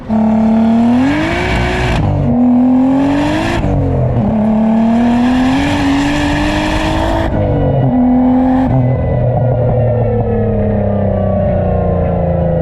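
A big-turbo Nissan 300ZX pulls hard in second gear, its loud engine note climbing steeply, dipping briefly at shifts or lifts, then rising again and settling into a sustained high drone.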